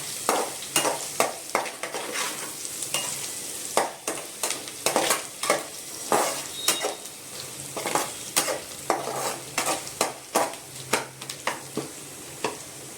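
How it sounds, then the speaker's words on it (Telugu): Garlic fries in hot oil with a soft continuous sizzle under rapid, regular scraping strokes of a spatula against the pan, close and fairly quiet, no talking. "ఇలా వెల్లుల్లిపాయ వేసి వేగనివ్వాలి."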